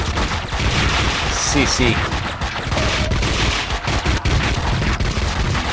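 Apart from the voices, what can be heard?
gunfire from the video game Max Payne 2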